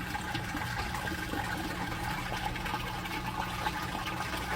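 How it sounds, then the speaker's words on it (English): Water rushes steadily out of a homemade DIY grow bed and drains down through a 1-inch pipe, a constant close gushing and trickling with no speech over it. "all that water is coming right back out of the grow bed"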